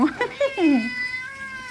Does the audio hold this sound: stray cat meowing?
yes